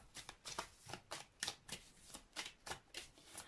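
Tarot cards are shuffled by hand: a steady series of soft riffling and slapping bursts roughly every third of a second, close but quiet, with no voices.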